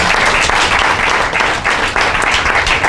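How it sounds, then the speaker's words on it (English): A conference audience at a faith and mental health event claps together in dense, loud, continuous applause that fills the room with no voices on top. "can you give yourselves a round of applause"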